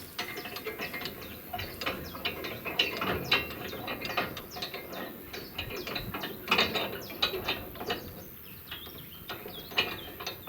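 Crank adjusters on a haymaking baler are wound down by hand, a close, rapid run of ratchet clicks with brief pauses throughout.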